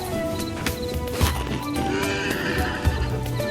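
A horse in the video game Hytale neighs and whinnies after being fed a carrot, with clopping hooves, all heard close and loud over a steady game ambience, with no talk.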